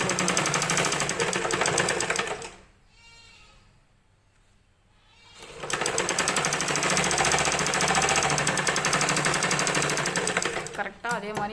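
A sewing machine runs a rough stitch along a blouse seam with a dense, fast, even rattle, stopping briefly for a quiet gap before resuming at full speed, close and loud.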